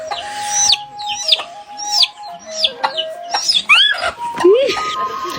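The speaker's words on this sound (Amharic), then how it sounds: "በፊት ላሳያችሁ የኔ አበሻ ዶሮ ናት።" An Abyssinian (Ethiopian Habesha) hen clucking repeatedly up close in short rising calls, with a steady tonal hum and other voices faintly in the background.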